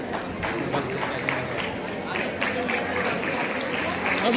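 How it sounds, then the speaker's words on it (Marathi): Applause breaks out at a rural women's self-help group gathering, a scattered, moderate patter of hand claps from the crowd running under a voice speaking over a loudspeaker. "टाळ्यांचा आवाज थोडासा कमी येतोय तर जोरदार टाळ पाहिजे"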